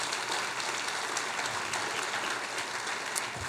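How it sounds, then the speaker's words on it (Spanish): Church congregation applauding during a Spanish-language sermon: a steady, dense wash of clapping that holds at an even level throughout, with no speech over it. "Denle un fuerte aplauso a nuestro Dios,"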